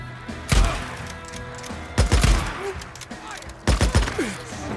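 Gunfire in the video game Days Gone: three separate bursts of loud, sharp shots with booming low thumps, spaced about a second and a half apart, with quieter ambient sound between them.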